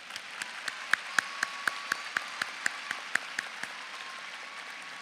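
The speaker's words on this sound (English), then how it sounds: "Let's show our appreciation with a round of applause." At a Dallas school district scholars recognition ceremony, sparse applause comes through as a regular series of sharp, distinct claps, roughly four per second, over a faint hum of a larger room.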